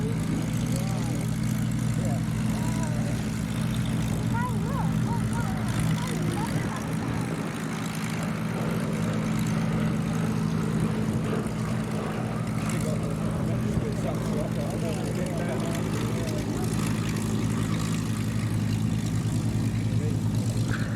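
The Boeing B-17 bomber Sally B flies at a Duxford airshow, a steady low droning of its propeller engines filling the whole stretch, constant and moderately loud, with a voice talking over it.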